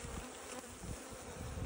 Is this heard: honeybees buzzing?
yes